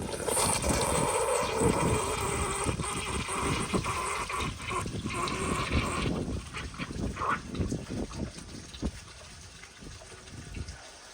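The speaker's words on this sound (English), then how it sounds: "Here's a flush." A 2010 American Standard Baby Devoro toilet flushes, a rushing gush of water that gradually thins into gurgling refill and fades toward the end.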